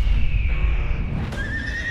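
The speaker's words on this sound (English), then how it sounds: "Something very wrong with that horse." A horse lets out a loud, shrill whinny close by, the neigh rising and wavering over about two seconds with a faint clatter of hooves beneath.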